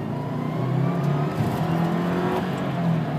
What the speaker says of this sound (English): four cylinder, boxer engine, unbelievable acceleration.